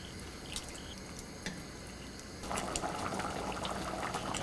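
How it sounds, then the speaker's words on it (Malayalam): Duck curry in coconut milk boiling and thickening on a medium flame, quiet bubbling at first that swells into a louder, busier simmer halfway through. "മീഡിയം ഫ്ലെയിമിൽ വെച്ച് ഇത് നന്നായിട്ട് തിളച്ച് കുറുകി വരണം."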